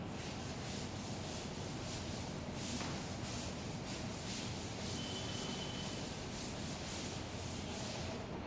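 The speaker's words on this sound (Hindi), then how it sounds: "चलिए रब करते हैं इसको।" Something is rubbed steadily on paper for several seconds, giving a continuous close scratchy friction noise with soft rhythmic strokes and no voices.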